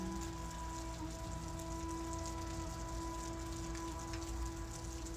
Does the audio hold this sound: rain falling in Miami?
yes